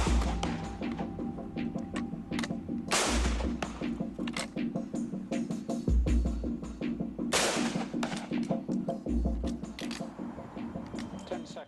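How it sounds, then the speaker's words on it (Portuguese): A volley of Springfield rifle shots fired in a test, heard as two loud, sharp cracking blasts a few seconds apart over a steady low rumble. "Vamos começar pela primeira salva de tiros."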